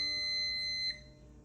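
A Capresso ST300 coffee maker gives one sustained, high electronic beep when plugged in. The beep holds steady for nearly a second, cuts off abruptly, and leaves a faint background hum.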